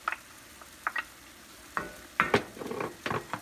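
Anchovies going into a hot frying pan with cauliflower and mushroom bits, giving quiet sizzling and a few sharp spatters and stirring scrapes in irregular bursts, close and without talk.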